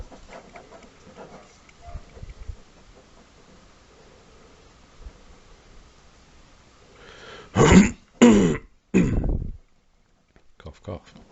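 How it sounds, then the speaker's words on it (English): A person coughing and clearing their throat in three loud, close bursts near the end, after a stretch of quiet background murmur. "Cough, cough."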